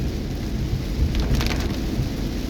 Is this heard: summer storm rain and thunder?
yes